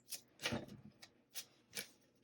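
A small tarot deck is shuffled in a few quick riffling bursts, soft and close, with brief pauses between them and no talking.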